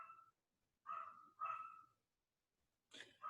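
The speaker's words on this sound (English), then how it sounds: "It's actually a neighbor's dog." A neighbour's dog barks somewhat distantly and faintly in several short, separate woofs spread over a few seconds, with brief silences between them and no talking.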